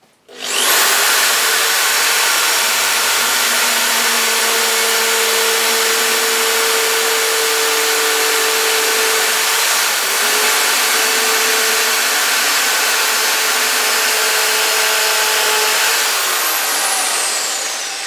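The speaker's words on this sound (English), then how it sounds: "even this drill's getting hot and it's brand new" A brand-new power drill whines steadily as it bores all the way through a piece of wood for a bonsai stand, a loud continuous buzzing drone for about eighteen seconds with no voices.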